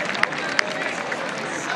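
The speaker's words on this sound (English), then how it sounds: "Big round of applause to Braden Kane." A crowd at a high school all-star football game applauds for player Braden Kane, a steady wash of distant clapping and murmur with a couple of sharper claps and a voice speaking over it.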